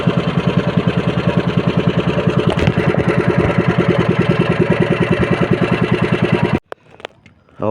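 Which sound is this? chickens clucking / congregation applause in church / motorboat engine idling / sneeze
motorboat engine idling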